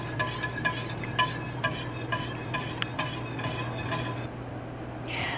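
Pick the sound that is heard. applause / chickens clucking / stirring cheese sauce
stirring cheese sauce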